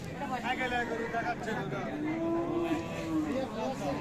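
Friesian dairy cows and calves at the Raniganj cattle market in Ghoraghat, Dinajpur, with a drawn-out low moo rising over the steady crowd hubbub and nearby voices.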